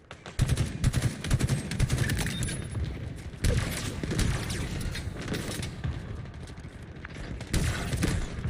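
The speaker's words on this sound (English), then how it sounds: "That was a great grenade." Dense gunfire and explosions from a video game firefight, a grenade blast among them, form a loud continuous barrage of rapid shots and booms without any voices.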